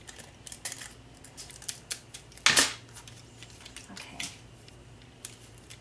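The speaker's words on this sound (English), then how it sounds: "I'm going to cut a little bit more off the bottom." Scissors cutting paper for a handmade card, heard as a run of sharp close snips with one louder crisp cut near the middle, then a few lighter clicks and quiet handling noise.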